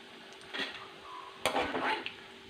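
Fried raw mango pieces are scooped out of hot oil with a utensil, giving quiet scraping and clinking scoops against the pan, two clear bursts of stirring noise over a soft sizzle.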